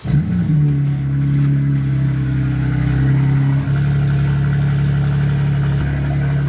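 A BMW M3 Touring engine cold-starts and settles into a loud, steady, rumbling idle with a deep exhaust drone, no talking.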